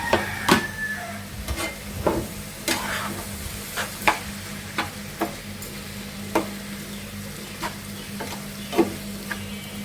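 Onions and green chilies fry in a pan with turmeric powder, giving a low, steady sizzle broken by regular sharp clicks of stirring, moderately close and fairly quiet, with no voices.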